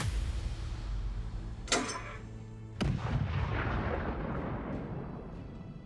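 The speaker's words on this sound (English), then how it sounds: "the artillery guys leveled the barrel, and they put in what they call canister rounds or beehive rounds" Artillery fires canister (beehive) rounds from a leveled barrel, giving two heavy, sharp blasts about a second apart with a rumbling roar that lingers between and after them.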